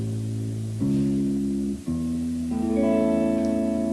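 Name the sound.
guitar notes root, third and fifth against the chord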